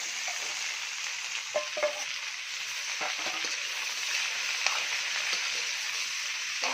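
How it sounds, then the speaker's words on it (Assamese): Amla (Indian gooseberry) frying in a pan for a sweet jaggery pickle, a steady bright sizzle with occasional soft clicks of stirring, heard close with no talking. "এনেকৈ আমলখিখিনি ভাজি লওঁ"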